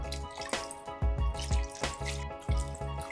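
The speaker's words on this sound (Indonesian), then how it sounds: "tuangkan secukupnya air hingga semua ikan menjadi terendam" Water is poured into a pressure-cooker pot over homemade sardines, splashing and dripping in quick irregular bursts, close and fairly quiet with no voices.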